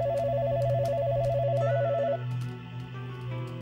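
A telephone at a museum in Plaza Huincal rings with a warbling, trilling electronic tone for about two seconds, then stops, leaving a faint hum and soft clicks.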